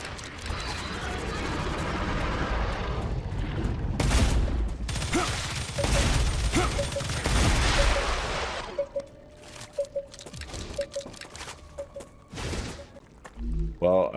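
Gunfire in the sci-fi game StarRupture, sustained loud bursts of automatic shots rattling for several seconds, then thinning into sporadic clicks and mechanical ticks.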